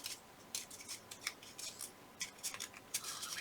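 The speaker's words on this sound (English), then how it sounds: "And crumple the edges." Paper edges of a scrapbook flower are crumpled by hand in short, crisp rustling bursts, close up and fairly quiet, with no talking.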